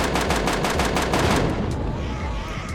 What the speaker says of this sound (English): Oh, we shot one guy in the head.